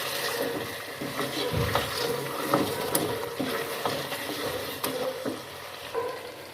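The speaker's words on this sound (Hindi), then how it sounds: "अब इसमें हम पाया मसाला डाल देंगे, तो अच्छे से मिक्स कर लेंगे।" Beef trotters being stirred and fried with paya masala in a pot, giving a steady sizzle with scraping spoon strokes and a few sharp clinks, close and moderately loud with no talking.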